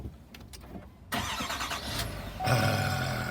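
A click, then the push-button-started diesel engine of a 2020 Chevrolet Silverado 2500 HD pickup cranks and starts, settling into a steady, fairly quiet idle nearby.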